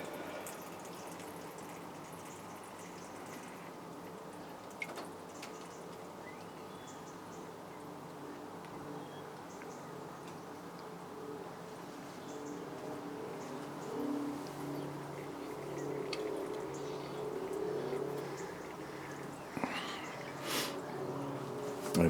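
A small RO water filter unit runs with a steady, faint hiss of flowing water and a low hum, continuous throughout with a few light clicks and drips.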